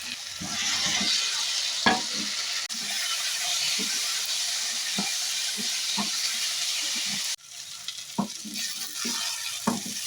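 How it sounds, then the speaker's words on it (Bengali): Spice paste frying in a pan over a medium-low flame with fried potatoes for a duck egg curry gives a loud, steady hissing sizzle, broken by repeated spatula scrapes and knocks. The hiss briefly drops before resuming. "মশলাটা এবার খুব ভালো করে কষিয়ে নিচ্ছি"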